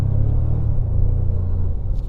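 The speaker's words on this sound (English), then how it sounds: "because of the TRD exhaust and everything, you get a grunt sound, you get a bit of a growl to it" A Toyota Tacoma TRD Pro V6 pulls through its TRD exhaust with a steady, close, low grunting growl that holds for about two seconds and eases slightly near the end, with no talk over it.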